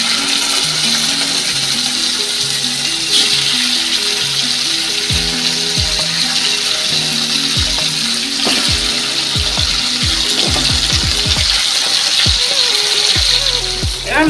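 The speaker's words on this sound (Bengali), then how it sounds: "মাছগুলো কড়া করে ভেজে নেব।" Fish sizzle in hot mustard oil in a wok, a dense, continuous crackling spatter that stays loud throughout, with clinks and scrapes from a utensil and faint background music beneath.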